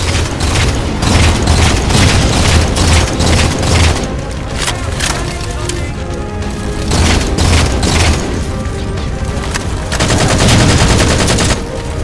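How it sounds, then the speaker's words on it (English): Heavy weapons fire and explosions during a Halo 4 battle as a railgun fires on Phantom dropships, with dense rapid gunfire, deep booms and rumbling blasts filling the whole stretch at loud volume. "Target those phantoms for the railgun to shoot down."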